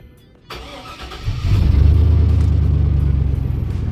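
A Chevrolet Silverado pickup engine that starts weakly: a short starter crank, then the engine catches and settles into a loud, steady, close-up rumble.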